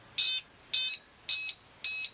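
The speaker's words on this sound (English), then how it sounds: "it's going to continue to alarm until I increase it above 14 volts" A low-voltage alarm on a Hobbymate 5-in-1 quadcopter power distribution board gives four loud, shrill beeps in an even, regular rhythm, each about a quarter-second long, with silence between.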